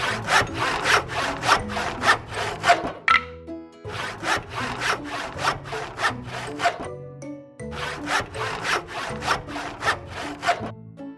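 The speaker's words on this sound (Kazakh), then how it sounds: "Ара кеседі, аралайды." A hand saw cuts through wood in three bursts of quick, close, rhythmic rasping strokes, with short pauses between them and no talk.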